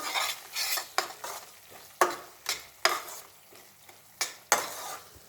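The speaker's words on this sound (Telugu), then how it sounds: "ఇప్పుడు సరే మంచిగా కలుపుదాం." Fish curry with green chillies and coriander being stirred in a pan: a spoon scrapes and knocks in repeated strokes about once a second, each followed by a fading sizzle, close and fairly loud with no talking.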